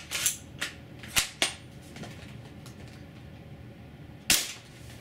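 A WELL L96 airsoft sniper rifle is fired over a chronograph, giving several sharp, snappy shots spaced irregularly over a few seconds, one of them late and isolated, with faint handling clicks between and no talk.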